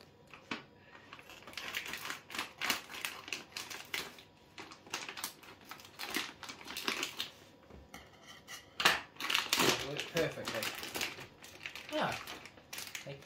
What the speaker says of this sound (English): Might need some scissors